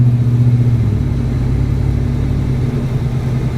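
A Ford Raptor pickup truck's engine drones steadily while driving, with a loud low throaty hum and a slight shift in pitch partway through, and no talking over it.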